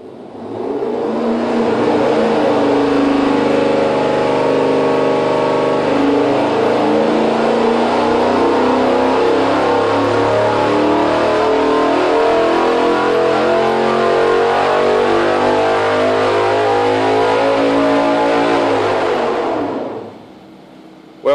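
A car engine on a dyno during a header test, revving in one long, loud pull that climbs steadily in pitch for about twenty seconds before cutting off abruptly, with no talking.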